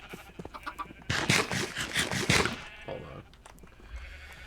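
Sheep bleat on a Minecraft sheep farm, a couple of nasal bleats in the middle over a faint busy game background, fairly quiet and with no talk.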